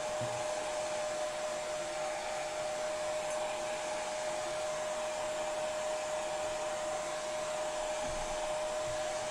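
A crafting heat tool blowing hot air over a junk journal page, a constant loud whooshing hiss with a steady high motor whine, close and unbroken throughout.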